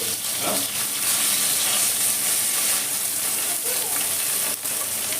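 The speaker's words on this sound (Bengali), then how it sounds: "মাছগুলো খুব ভালো করে আমি ভেজে নিলাম এপিট ওপিট করে" Constant, loud sizzle of small puti fish frying in hot oil fills the clip, with faint spatter and stirring noises underneath.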